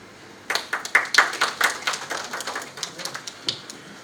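Scattered hand claps from a workshop audience in Kampala, a loose run of separate claps that starts abruptly, rises briefly and thins out over a few seconds, with no voices.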